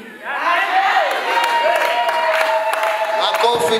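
Audience at a birthday celebration breaking into applause and cheering, a burst of clapping with whoops rising quickly and holding steady, fairly close and loud.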